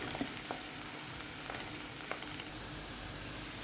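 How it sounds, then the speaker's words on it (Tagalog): Chopped onion fries in a pan for a lentil adas dish, cooking until lightly browned, with a steady, dense sizzle and faint crackles running throughout and no voices. "Make the onion shwaya brown"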